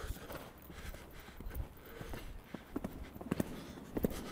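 Horse hooves clip-clop on the ground during a riding session, with irregular, moderately near footfalls that grow denser and louder toward the end over faint background noise.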